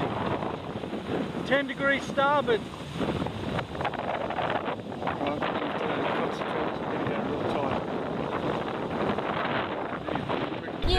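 Wind blows steadily across a sailing catamaran at sea, a loud broadband rush with buffeting through the whole stretch while voices talk over it.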